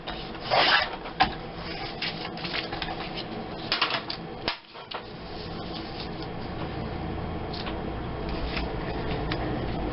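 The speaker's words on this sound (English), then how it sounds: "I'm going to trim this down to a narrower strip" Clear vellum paper being trimmed into a narrower strip for a scrapbooking border, heard as a close, scraping rasp with a few louder strokes early on and then a steady rubbing texture.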